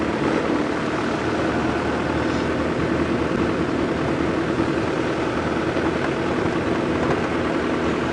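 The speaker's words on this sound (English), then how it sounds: "This is a very loud diesel car, so it sounds somewhat like a tractor." A loud diesel safari vehicle idles close by in the cold before dawn, a steady, heavy, low rumble that chugs like a tractor and holds unbroken for the whole stretch with no talk over it.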